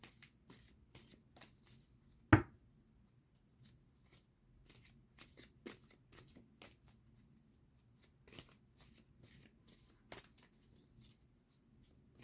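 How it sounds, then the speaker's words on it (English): A deck of oracle cards is shuffled by hand during an intuitive card reading, giving soft, close papery riffles and slides at low level, with one sharp snap near the start. "Let me do one more shuffle."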